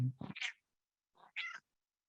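A blind cat meows twice nearby, a short plaintive call followed by a second one after a brief pause, clear against an otherwise silent room.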